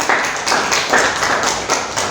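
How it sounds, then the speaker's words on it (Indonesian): Audience at a school teachers' outreach session clapping, a steady run of close, light handclaps with rhythmic pulses. "Beri tepuk tangan yang meriah untuk beliau"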